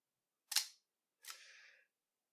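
The leaf shutter of a TDC Stereo Colorist II stereo camera fires with two sharp, fairly loud mechanical clicks, the second followed by a brief whirring trail, close and alone in silence.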